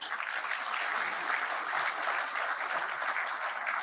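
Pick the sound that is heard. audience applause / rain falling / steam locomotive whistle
audience applause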